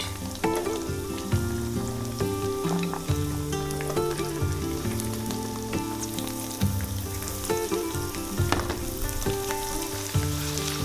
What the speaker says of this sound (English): first I am putting the green peas, green beans, because it takes much time to cook. So there it goes, beans, and also I will put the carrot